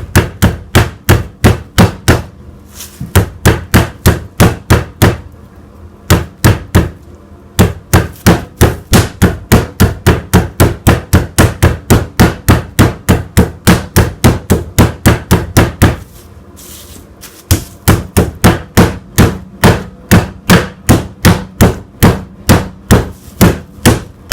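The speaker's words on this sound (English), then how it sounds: "take your roller and just take your time and just flatten it out" Chicken in a bag is pounded flat with a rolling pin in rapid, loud, close thuds that repeat steadily. Two short pauses break up the runs of blows.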